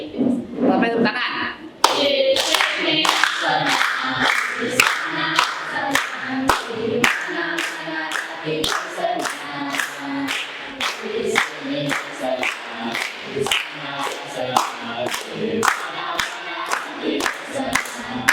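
A group of people claps hands in rhythmic, fairly regular bursts, close and loud, continuing for a long stretch while voices shout and talk over the claps.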